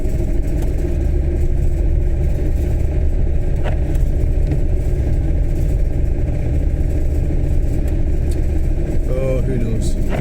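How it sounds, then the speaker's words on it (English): A Volkswagen van engine drones continuously at a steady, moderately loud level while driving through the Falkirk area, with faint talk now and then over the engine noise. "The Volkswagen van."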